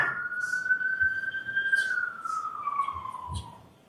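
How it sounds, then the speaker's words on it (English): A siren wails in one long sustained tone that sags in pitch and fades as it passes, with faint background sounds. "I just wanted the siren to go by."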